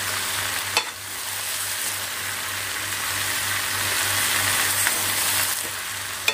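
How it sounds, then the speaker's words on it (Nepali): Eggplant stirred and cooked in a pan, a steady loud sizzle of frying running throughout with occasional scraping stir clicks, no voices. "चलाउँदै पकाउँदै गरेर 5-6 मिनट जति पकाउँछु"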